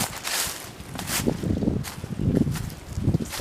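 Footsteps crunch and shuffle through thick fallen leaves on a woodland trail near water, a steady walking rhythm of rustling bursts, fairly close and with no talking.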